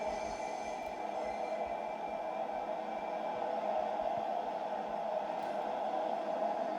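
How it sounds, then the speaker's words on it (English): Class 377 electric train in Train Sim World 2 pulling away from a station, a steady broad whine and rumble with a sustained mid-range hum, continuous and moderately loud throughout with no talking. "The class 377s is now departing the station."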